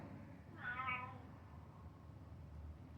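A single soft meow from a one-year-old cat in a cat café in Japan rises briefly over a low, steady background hum, fairly faint and distant.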